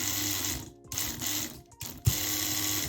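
The greased gearbox of a Tamiya 1/14 scale truck runs with a continuous whirring, mechanical drone broken by a few short pauses and a small clunk, close and fairly loud.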